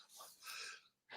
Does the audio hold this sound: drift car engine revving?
no